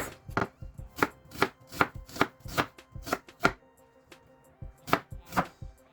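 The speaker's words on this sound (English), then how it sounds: "I will slice it." A knife slices through food on a cutting board for a Ghanaian oil rice dish, about a dozen crisp chops in an uneven rhythm with a short pause near the end, close and clear with no talking.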